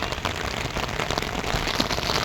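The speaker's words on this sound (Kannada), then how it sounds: "ಮಳೆ ಬರ್ತೈತೆ" Steady outdoor rain falls on surfaces, a dense, even hiss with scattered drop patters running throughout at moderate loudness, no voices.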